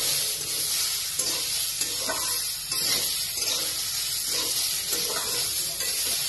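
Vegetables fry in a pan with lai for a squash and chicken curry, a steady close sizzle with rhythmic stirring scrapes running throughout.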